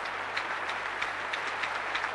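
A concert audience applauds at an anniversary performance of Stravinsky's Le Sacre du Printemps with the London Symphony Orchestra, a sustained, somewhat distant wash of clapping over a faint low hum.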